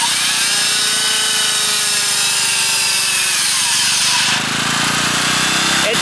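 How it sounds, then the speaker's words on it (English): A loud power tool runs off a generator powered by wood stove smoke, whining steadily at close range, its pitch sagging slightly under load, with a harsh rasping, grinding edge throughout. "That's a pretty good size power tool."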